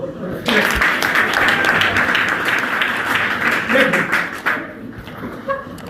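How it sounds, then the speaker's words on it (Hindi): A seminar audience claps in dense, sustained applause for several seconds, then it tapers off, with a voice speaking over the clapping throughout. "ताली बजा दो।"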